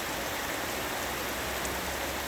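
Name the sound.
rain falling with a little small hail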